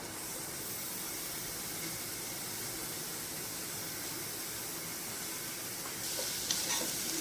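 Finely chopped onions frying in oil in a pan for a mixed vegetable curry gravy, giving a steady, close, broadband sizzle that runs unbroken and swells slightly louder near the end.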